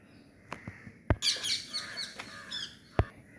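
Birds chirp and call in the evening as they settle to roost, a burst of bright overlapping calls at mid-distance punctuated by a few sharp close knocks.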